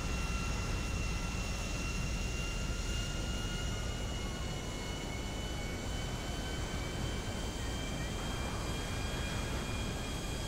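Airplane engine in Grand Theft Auto 5, a steady broadband jet-like roar with faint whining tones, sustained and fairly loud throughout with no talk.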